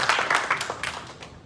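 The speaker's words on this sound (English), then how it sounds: "Now you can clap." A group of children at a church summer camp clap, a loose scattering of distinct handclaps at close range, irregular and fairly soft over about a second and a half.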